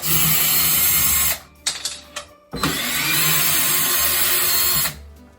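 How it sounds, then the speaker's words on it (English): A power drill with a Phillips bit whines loudly up close removing screws, stops briefly with a few clicks and clatters, then spins up again in a long steady burst. "So I'm gonna use my drill with my little Phillips head drill bit."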